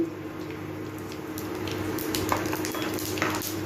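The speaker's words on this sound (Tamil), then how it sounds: "பெருஞ்சீரகம் விட்டு அதையும் பொறிக்க விடலாம்" Mustard seeds and fennel seeds sputter in hot oil, a dense crackling sizzle with scattered sharp pops that builds slightly over the few seconds, close up with no talking.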